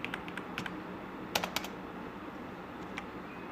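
Quick bursts of keystrokes on a computer keyboard as HTML code is entered, soft and close with irregular clusters of clicks and no voice.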